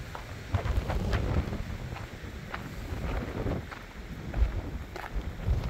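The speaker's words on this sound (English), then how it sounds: "Not going to be easy to hold up a sign in this wind though" Gusty wind buffets the microphone on a hiking trail near a road, a steady low rumble with surging gusts that swell and ease throughout, no voices.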